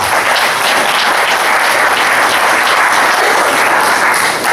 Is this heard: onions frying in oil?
no